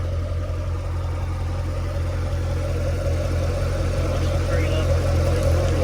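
A car engine idles steadily with its hood raised, a low even rumble that holds close and constant throughout.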